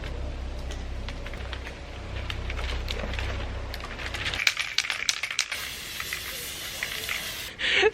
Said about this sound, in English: Let's spray paint this black, shall we?